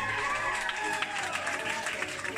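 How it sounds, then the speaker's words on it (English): Audience applause for the singer playing Aeneas in an opera production of Dido and Aeneas, a steady dense wash of clapping with some crowd noise, sustained and fairly loud throughout. "Let's give him a huge round of applause."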